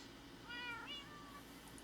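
Cats give a couple of short, quiet meows in quick succession indoors over a low background hum, with no talking.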